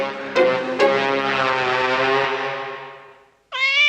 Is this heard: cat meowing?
yes